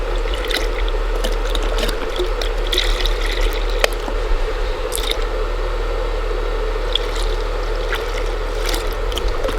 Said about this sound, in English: Go ahead and add in the coconut milk.